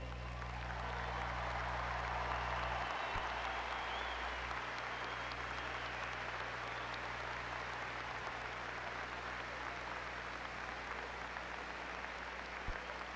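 Applause from a commencement audience welcoming back an alumni class at a university ceremony, a steady, dense wash of clapping that fills the whole stretch at moderate distance without breaks.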